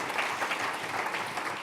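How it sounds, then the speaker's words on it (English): A roomful of people claps steadily together, a dense and even wash of applause with no voices on top. "Let's give another round of applause for these guys."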